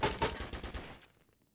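A short burst of machine gun fire in the Military Tycoon video game, about half a dozen rapid, evenly spaced shots at moderate volume that stop abruptly and trail into a brief fading tail.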